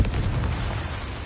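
Spell explosions from the Hogwarts Legacy video game: a dense, loud burst of booming, crackling blast noise filling the whole moment, with no voices over it.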